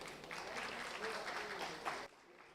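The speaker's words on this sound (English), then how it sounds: "Can I have a round of applause," A conference audience at a national infrastructure summit applauds steadily for about two seconds, a dense even patter at moderate distance that cuts off abruptly, with faint room tone after.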